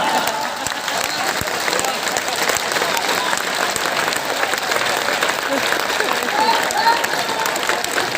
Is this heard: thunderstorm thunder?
no